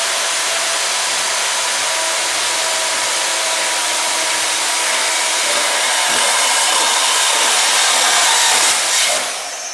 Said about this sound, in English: this portable bandsaw is much quicker and much easier to get a straighter cut.